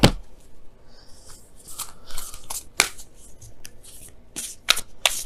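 Tarot and oracle cards being shuffled by hand, crisp riffling flutters and sharp slaps in irregular bursts, close up with no talk.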